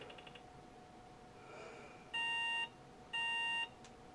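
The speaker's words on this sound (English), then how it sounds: "two beeps" Two identical electronic beeps from a Cambridge Micro Computers 486 DX33 computer, each about half a second long, sound a second apart over faint background noise.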